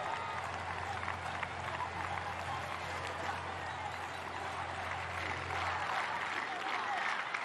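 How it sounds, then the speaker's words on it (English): A stadium crowd at a Universiade athletics race roars continuously with scattered clapping, a dense distant wash of voices that swells slightly toward the end, with no individual chant standing out. "the crowd shouting Italia"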